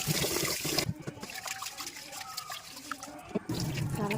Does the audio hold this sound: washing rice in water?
yes